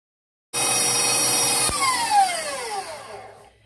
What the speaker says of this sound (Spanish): En este punto dejé batir 3 minutos.